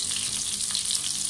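Cumin seeds dropped into about two tablespoons of hot oil in a home kitchen, making palak paneer, give a steady, close, loud crackling sizzle that fills the whole moment without pause.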